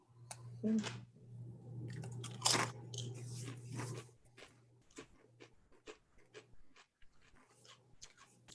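Crunchy bites and chewing of large Thai Lays sweet basil potato chips, loud crunches early then softer clicking chews, close to the mouth, with a low steady hum and brief voices underneath.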